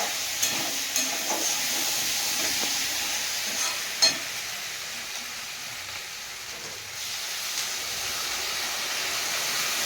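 Water goes into a pan of frying taro curry with yogurt, giving a steady loud sizzle and hiss with a few sharp clicks and stirring knocks throughout.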